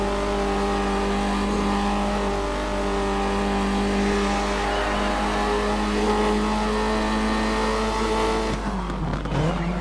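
A rally car's engine drones and revs steadily in the Dirt 3 racing game, with a constant loud buzzing tone and a brief shift near the end, heard alone without talk.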